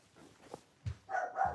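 Dogs bark late at night in a home setting, a few short separate barks with the loudest bursts toward the end, fairly close.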